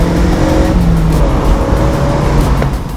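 A cheap project car's engine revs hard and loud up into the top of its rev range, a strained, rising mechanical howl sustained close by with road noise and no talk.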